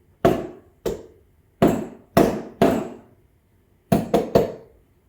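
A part of a Breville Oracle Touch espresso machine is emptied and cleaned: eight sharp, loud knocks close by, spaced unevenly with a tight cluster of three near the end, each ringing off briefly, with no talking.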